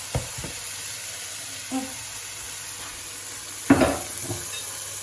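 Tomatoes going into a sizzling mixture in a pan while making coconut-milk curry shrimp, with a low steady sizzle, a few soft clunks and a louder burst of stirring and splatter near the end.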